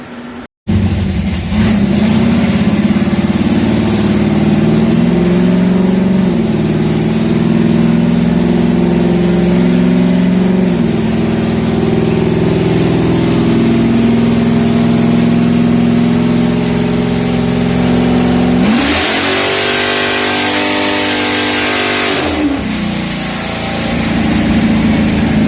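Trans Am V8 with a new cam and ported intake roaring on a dyno pull on nitrous, loud and close, pitch climbing steadily for about twenty seconds before dropping off and settling back.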